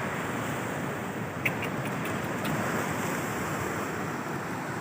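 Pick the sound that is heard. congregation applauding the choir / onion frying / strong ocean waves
strong ocean waves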